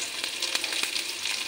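Dried fish (shutki) frying in a pan with garlic and onion gives a continuous close sizzle, with faint stirring scrapes breaking through now and then.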